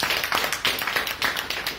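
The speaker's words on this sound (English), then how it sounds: "Let's give a round of applause to all of us." Applause at a club meeting: a small group clapping with uneven, loose rhythm, close and fairly loud, with no talking over it.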